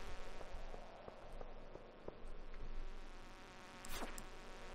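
Buzzing insects in the mines of the video game Stardew Valley, a steady layered drone with a rising whine near the end, close and continuous under game effects.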